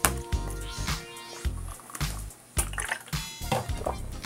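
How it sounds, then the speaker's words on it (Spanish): Water being drunk between bites of chocolate wafers, with a series of close, wet squishing swallows and gulps in an irregular rhythm, each followed by brief pauses, and no talking. "Voy a tomar agua para probar el Quaqua ahora."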